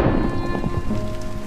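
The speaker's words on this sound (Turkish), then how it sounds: "Yağmur yağıyor bakın." Steady rain and rumbling thunder from a Minecraft animation form a dense, continuous wash of noise. The storm stays loud and close throughout, with no voices.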